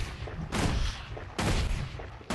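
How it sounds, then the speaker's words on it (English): Rifle fire in a video game, two loud sharp bursts about a second apart with a third starting at the end, each followed by a short rumbling tail. "So I'm using a rifle now with this guy."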